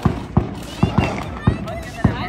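Home July 4 fireworks go off as a series of sharp pops and bangs at irregular intervals, with voices audible in the background.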